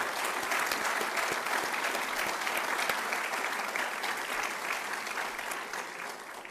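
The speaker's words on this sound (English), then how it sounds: "Please help applaud all three award winners." A college gathering applauds its award winners with a steady, even wash of clapping from many hands, moderately distant and holding throughout before tapering slightly.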